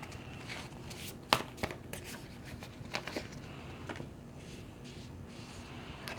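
Tarot cards shuffled and drawn with soft, scattered riffles and taps, including one sharper slap, under quiet room tone.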